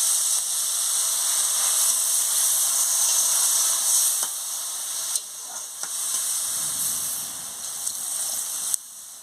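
Pumpkin greens in a pan after water goes in over the lightly fried leaves, a broad steady hiss of steam that eases slightly partway through, with a few faint clicks and knocks, close and continuous.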